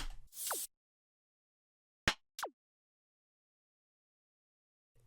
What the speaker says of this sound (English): And a white noise drop impact